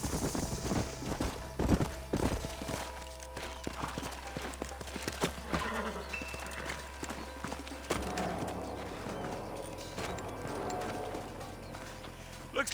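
Horse hooves clip-clopping in Red Dead Redemption, a steady walking rhythm of a few horses under faint game ambience, with occasional louder hoof thuds.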